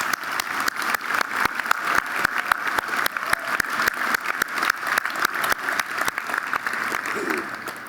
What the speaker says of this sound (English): Please join me in giving the East Brainerd Council a round of applause.